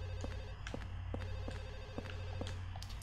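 A telephone rings repeatedly in Silent Hill 4: The Room, with short evenly spaced trills over a steady low ambient drone. No one speaks.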